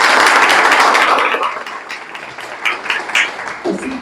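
An audience claps together at a cleanliness campaign gathering, loud dense applause that fades after about a second and a half into scattered claps and taps.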